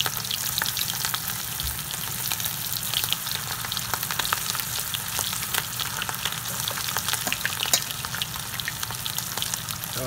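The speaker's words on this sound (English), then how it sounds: "Now time to heat it up. Fry them like so. Fried shrimp." Shrimp frying in hot oil gives a steady, close, dense sizzle that crackles and pops for the whole stretch, with no voices over it.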